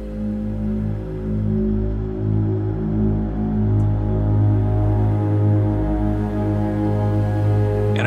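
Cinematic winter-night mountain soundscape blends synths and orchestral tones with nature recordings: steady low sustained chords and drones, moderately loud and continuous, with no voices.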